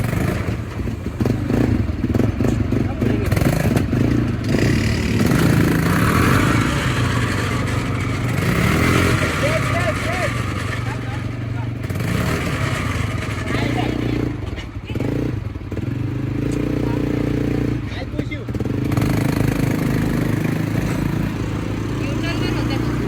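An ATV engine runs loud and steady through water on a jungle safari trail in Bali, with splashing, clattering and thumps over rough ground, and voices talking throughout.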